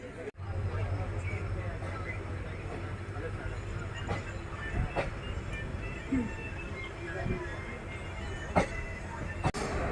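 A train pulls into Kapakapathur railway station with a steady low rumble and occasional clanks throughout. A voice talks over it.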